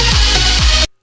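A dense EDM mix overloaded with harsh high-end content, a bright hissy wash over pulsing low bass hits, loud and continuous before cutting off abruptly.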